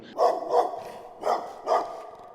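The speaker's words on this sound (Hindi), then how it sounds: "कहीं दूर से एक कुत्ते की तेज गुर्राहट और भौंकने की आवाज सुनाई देती है" A dog barks four times in two pairs, sharp and mid-loud with a slight distance to them, separated by short pauses.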